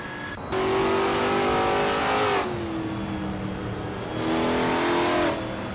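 Racing cars including a BMW Z4M Coupe GT in a video game race roar past in two loud acceleration bursts, engine pitch climbing then dropping between them, with no talk.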